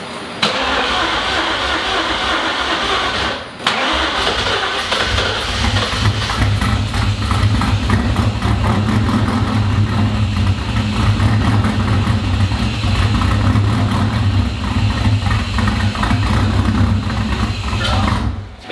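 A Terminator Cobra V8 tuned to 800 horsepower starts after a brief gap in cranking and settles into a loud, rough, rumbling idle that runs steadily close by, with occasional revs and no speech over it.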